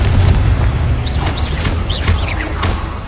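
A loud, booming blast from the Confringo spell in a video game, a dense, continuous roar with crackling bursts layered on top throughout.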